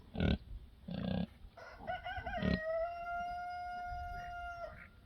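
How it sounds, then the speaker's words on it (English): A young rooster tries a few rough, breaking crows, one ending in a long thin wavering note, close by among farm critters, with short hoarse bursts before it. "You hear that rooster? It's learning how to crow."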